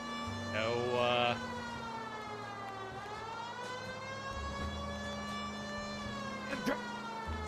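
Police sirens wail in L.A. Noire, a crime video game set in 1940s Los Angeles, a steady rising and falling tone held near and loud over traffic and engine rumble, with a brief louder burst early on.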